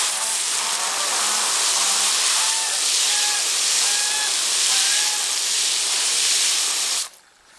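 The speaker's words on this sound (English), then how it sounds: "Water it in really good." A hose spray waters in a newly planted tomato in a garden bed, a steady loud hiss of water running without pause for about seven seconds before cutting off abruptly.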